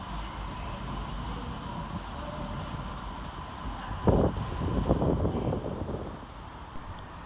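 Northern Rail unit 323239 on the 10:33 service to Hatfield at Manchester Piccadilly station: a steady low rumble of rail traffic with wind buffeting the microphone, swelling into a louder, busier passage partway through.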